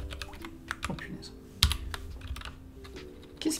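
Typing on a computer keyboard, irregular clicks and key presses in short bursts with a low background hum, fairly close and moderately quiet.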